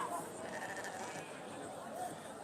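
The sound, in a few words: Valais Blacknose sheep bleating at a show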